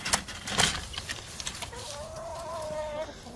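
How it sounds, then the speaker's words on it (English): Chickens cluck and murmur nearby outdoors, with a few sharp calls near the start and a rising, drawn-out cluck toward the end. "Come on, chickens, let's get food."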